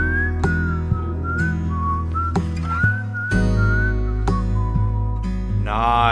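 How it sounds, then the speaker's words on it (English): Melodic whistling in a song from an album, a bright whistled tune gliding and repeating over a steady full backing track of instruments, loud and close throughout. "I love a bit of whistling in a song."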